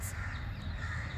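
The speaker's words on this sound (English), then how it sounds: "Do you hear the crows? Crows are doing this a lot these days." Crows caw outdoors, their harsh calls faint and distant over a steady low rumble of background noise during a short walk.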